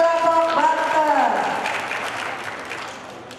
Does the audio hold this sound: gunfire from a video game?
no